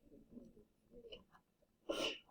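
A single short, breathy sneeze bursts out near the end after some quiet murmured talk.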